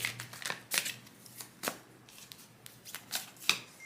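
Cards drawn from a deck during a pick-a-card reading make soft, quiet, close flicks and slides, scattered irregularly across a few seconds with no talking.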